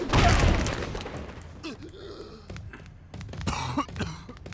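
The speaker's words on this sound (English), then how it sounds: "He's coughing up." A wrestler coughs in the Wrestling Empire video game: a harsh, raspy burst up front, then scattered thuds and rough game noise over a steady loud bed of crowd and arena sound.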